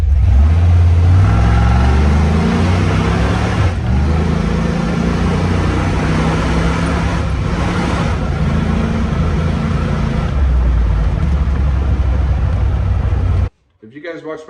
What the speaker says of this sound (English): And the Jeep is driving better than ever.